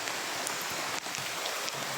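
Steady rain falls, a dense even hiss with faint scattered drop ticks and no voices.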